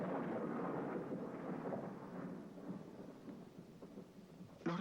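A thunderstorm with deep, rolling thunder rumbling steadily over falling rain, ending in a short, sharper crack; no voices.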